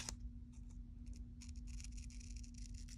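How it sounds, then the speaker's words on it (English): Scissors snipping through the header of a planner sticker sheet: a series of quiet, close, crisp cuts over a faint steady hum, with no talking. "I'm gonna cut this off though, this little header part."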